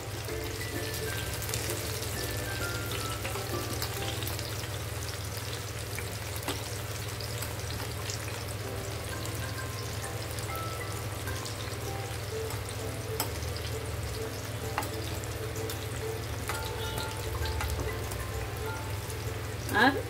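Tomato dal pakodas fry in hot oil, a continuous, even sizzle with fine crackling and occasional light clicks of two spatulas turning them, close and steady throughout.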